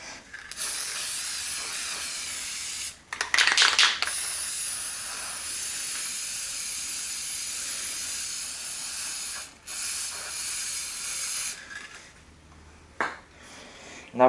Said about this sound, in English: And then you're just going to spray on top of the water.